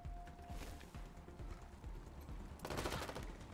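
Gunfire from the video game Wasteland 3: a rapid, rattling burst of shots that swells louder near the end, fairly faint overall and without speech.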